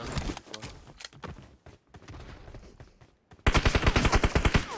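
Automatic rifle fire in a PUBG Mobile match: scattered shots and bursts at first, a short lull, then a loud, rapid sustained burst of close gunfire.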